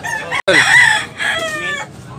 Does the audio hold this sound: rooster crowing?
yes